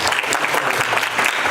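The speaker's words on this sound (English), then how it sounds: "So let's give them a round of applause" Audience clapping in a hall at a community cultural event, steady dense applause from a crowd filling the whole moment without pause.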